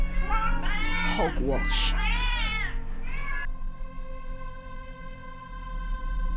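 Several drawn-out, wavering cat meows and yowls from a point-and-click game, The Excavation, sound close and loud, overlapping with voices, then a sustained tonal hum carries on alone.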